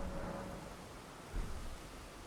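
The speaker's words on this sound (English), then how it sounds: "Now it's raining." Steady rain in Elden Ring hisses evenly in the background, with a brief low rumble swelling midway.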